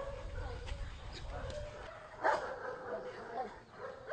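A pack of dogs barks and yips during an attack, with sharp bursts over muffled commotion and voices talking underneath.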